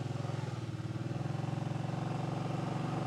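A Kawasaki Brute Force 750 ATV in low-range four-wheel drive crawls over rocks, its engine a steady, rapidly pulsing mid-pitched thrum held at low revs throughout.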